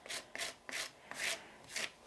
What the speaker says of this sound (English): I can scrape it off nicely.